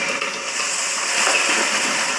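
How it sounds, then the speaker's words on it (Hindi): An animal leaping into a jungle river that holds a large caiman, heard as a continuous rushing, sloshing water noise at moderate level, steady throughout with no distinct single impact and no voices. "उसने पानी में छलांग लगाई है।"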